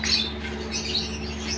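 Pet cockatiels squawking and chirping close by, a steady burst of shrill, harsh calls over a constant low electrical hum.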